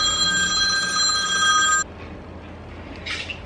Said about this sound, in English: I gotta answer the phone.